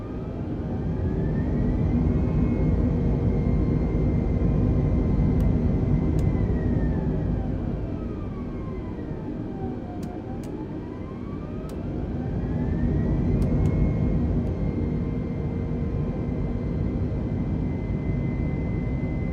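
Airbus A320 jet engines spooling through reverse thrust in Microsoft Flight Simulator 2020, a loud continuous roar with a whine that sweeps down and back up, steady throughout without talk.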